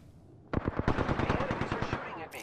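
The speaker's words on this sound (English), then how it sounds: "Opening fire on the enemy." Rapid automatic gunfire in the Apex Legends video game, a dense burst of loud, evenly spaced shots lasting about a second and a half after a brief quiet lead-in, ending with a sharp high-pitched click.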